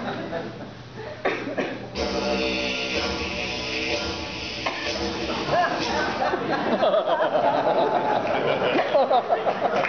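A didgeridoo imitates a kangaroo, mixing a low buzzing drone with voiced whoops and rhythmic bursts. It is close and continuous for about ten seconds.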